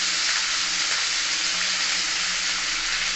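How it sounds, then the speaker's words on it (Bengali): Potatoes frying in hot oil tempered with black cumin and chopped green chilli, a steady dense sizzle that stays loud and even throughout with no talking. "সামান্য লবণ আর সামান্য হলুদ দিয়ে আলুটাকে ভেজে নেব"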